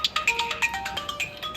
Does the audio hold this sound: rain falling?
no